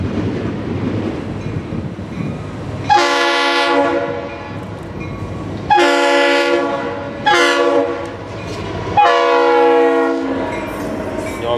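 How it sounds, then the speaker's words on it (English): A Florida East Coast Railway locomotive running light blasts its horn in four loud, harmonic bursts, separated by short gaps, over a rumbling engine near and close by. "including train 965, heading back engines light to Fort Lauderdale"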